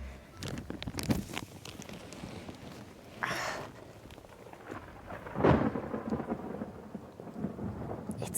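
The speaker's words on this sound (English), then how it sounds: "It's thundering." Thunder rumbles outside a car during a storm, with two stronger cracks and rolls over steady rain pattering on the roof and windows, heard from inside the closed vehicle.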